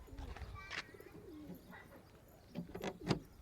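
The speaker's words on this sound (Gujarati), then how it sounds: "ફાઇનલી ગાઈસ બધા કબૂતર આવી ગયા" Pigeons coo softly nearby, several low throaty calls across a few seconds, with faint wing flutters and soft rustling around them.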